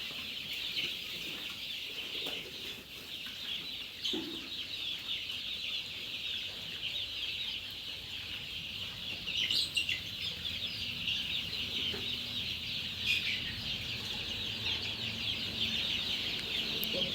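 Desi gavran chickens on a poultry farm of about 2000 birds cluck and murmur steadily as a busy flock, with occasional louder calls over a constant farmyard hum.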